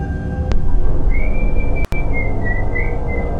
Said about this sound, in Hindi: भाई कोई सीटी बजा रहा है अभी।